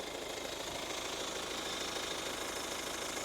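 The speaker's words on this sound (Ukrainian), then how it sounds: "мотор робить гарно" A car engine runs steadily during a used-car inspection, giving an even, continuous mechanical hum with a faint knocking texture, moderately quiet with no voices over it.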